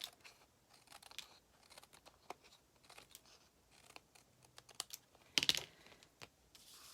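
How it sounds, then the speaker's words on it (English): Scissors snip and trim quilt fabric pieces with soft, brief cutting clicks and rustles scattered over several seconds, close and fairly quiet, with one louder crisp cut near the end and no talking. "Let's trim off these pieces and just set them aside."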